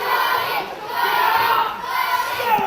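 A wrestling crowd at an FWA triple-threat match shouts and cheers in a steady roar that rises and falls, with higher-pitched voices mixed through the noise.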